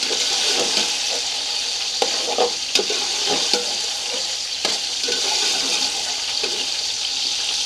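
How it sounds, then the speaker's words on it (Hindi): Sweet rice (zarda) with sugar frying in a pot over a full-flame stove gives a steady, loud sizzling hiss, with scraping, clattering stirs breaking through at intervals. "इसको अच्छे से यहाँ पे थोड़ा हमने फ्राई करना है।"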